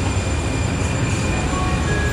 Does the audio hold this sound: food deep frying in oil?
no